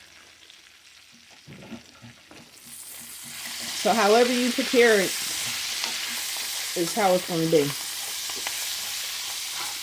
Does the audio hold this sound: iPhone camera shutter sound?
no